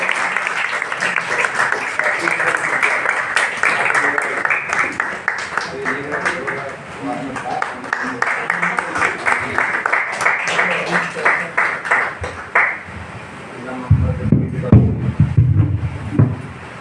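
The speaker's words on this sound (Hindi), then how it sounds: "तालियां बजाइए आप लोग को।" A crowd at a ceremony honouring a senior writer, Dr. Vinod Tripathi, breaks into sustained clapping. The applause rises and falls for about twelve seconds, then fades as speech takes over near the end.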